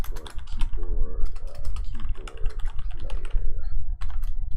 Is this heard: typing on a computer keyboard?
yes